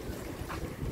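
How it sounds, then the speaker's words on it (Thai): Strong wind buffets the microphone in an open-air border market at the Ban Khao Din Thailand–Cambodia crossing, a brief, loud, rumbling roar with no speech. "ลมแรงครับ"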